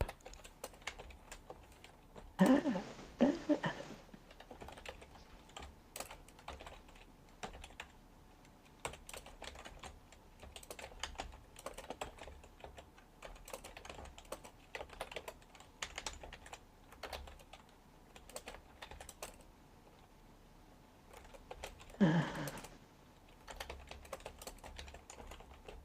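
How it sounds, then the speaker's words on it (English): Steady keyboard typing with irregular bursts of key clicks, close and fairly quiet, running continuously with brief louder thumps near the start and end. "I like the sound of you typing."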